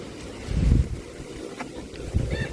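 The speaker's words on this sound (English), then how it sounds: "And the wind is very, very hot." Hot wind gusts buffet the microphone in a garden while seeds are being planted in egg crates, low rumbling blasts swelling twice over a steady breezy background.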